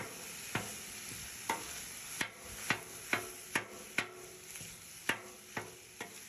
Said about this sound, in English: Now we're just going to mix this all up.